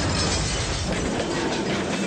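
A toy tanker wagon tumbles down a cliff and crashes into the ground, heard as a loud, dense burst of rumbling, rattling noise that fills the whole moment.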